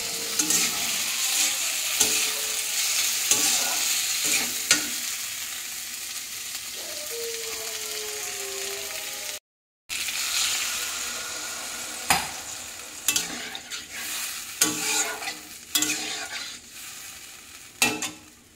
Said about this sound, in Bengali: তার উপরে যে সবজিগুলো ছিল সবজিগুলো দিয়ে দিলাম, ভেজে রাখা সবজিগুলো। এবার কিছুক্ষণ কষিয়ে নিচ্ছি।